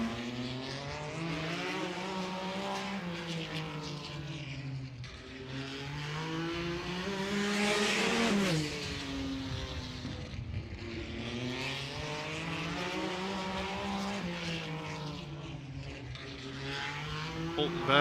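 A race car laps Anderson Speedway during Little 500 practice, its engine note droning steadily and swelling as it passes close around the middle, with a continuous roar throughout.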